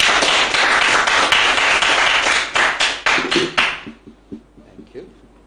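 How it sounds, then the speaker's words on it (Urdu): Audience applause fills a lecture hall, loud and sustained for several seconds before tapering into scattered claps as it fades out. "تالیاں."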